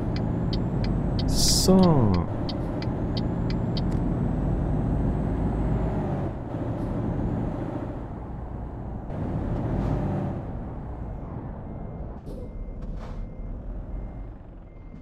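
A truck in Euro Truck Simulator 2 hauling an air-pressure tank toward Linz, with a hiss of air brakes and reversing beeps early on, then a low steady engine drone as it pulls away; someone speaks briefly.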